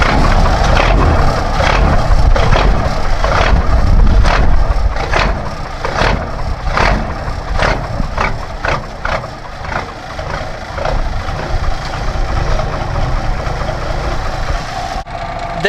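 A 1957 Mack B61 truck engine idling: a loud, close, rough diesel rumble with a steady thumping beat that continues for about fifteen seconds, with no speech over it.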